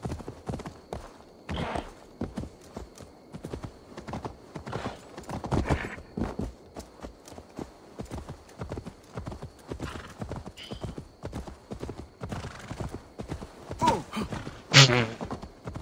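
Horse hooves clop steadily in Assassin's Creed Valhalla, a quick rhythmic run of close hoofbeats lasting throughout, with a whinny near the end and a few quiet voices.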